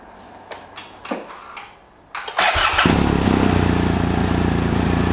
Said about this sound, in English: So I'm going to start it up real quick and then we'll see if it works.